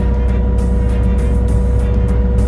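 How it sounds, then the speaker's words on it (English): An excavator engine runs in a steady, close, low diesel drone with a constant hum, while dirt and rock are dug up for a hand-built house; no voices. "This is my first time ever driving an excavator."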